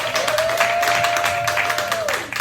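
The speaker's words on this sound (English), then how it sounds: "let's give a standing applause to you. Let's clap our hands one more time" Audience at a Reiki and energy talk claps in a steady wash while a sustained tone runs under the applause and slides down at the end.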